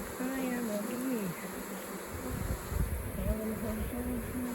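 Honey bees buzz steadily around a honey harvest at a small goat farm, a close, continuous insect hum with faint murmured sounds beneath it.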